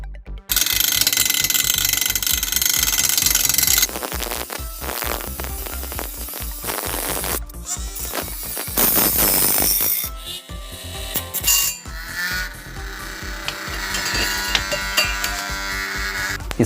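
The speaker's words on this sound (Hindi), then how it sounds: "चलिए अब इसकी मदद से हम इसको यहाँ से कट कर लेते हैं जहाँ से हमने मार्किंग किया था" A tool cuts through a part of a homemade mini air pump for bikes along a marked line. The cutting is loud and close, a continuous buzzing, rasping grind with brief pauses and changes in pitch.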